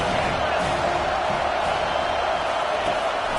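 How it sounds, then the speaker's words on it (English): Home crowd at a football game roaring steadily and loudly, a dense wash of cheering and shouting with no break. "how nice is it to have the home crowd going absolutely bananas"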